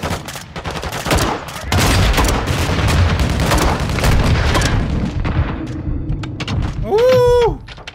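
Grenade launcher blasts and dense gunfire boom through a loud Call of Duty Modern Warfare 2 Remastered battle in the Prison Break mission, with heavy continuous combat noise and a short tonal sweep near the end.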